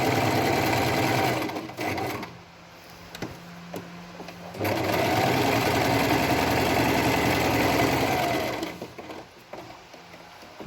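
A sewing machine stitches along a marked seam line on a halter-neck top, running in two long steady bursts of close, buzzing motor hum separated by a short pause, with no voices.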